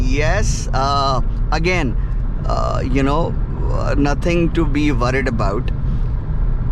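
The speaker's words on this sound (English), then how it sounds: "Road noise, road/tire noise" Steady low road and tire rumble fills the cabin of a VW Taigun GT Plus 1.5 DSG cruising on a highway, running constantly beneath someone talking throughout.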